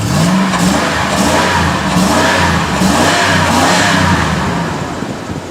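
A pickup truck engine with 230,000 miles runs close and loud, holding a steady smooth drone with a few gentle revs rising and falling, then easing slightly at the end; no talking.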